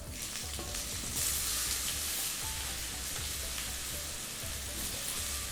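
Long-cut potatoes frying for stuffed bitter gourd, a continuous soft hiss of sizzling oil with occasional stirring, fairly quiet and without voices.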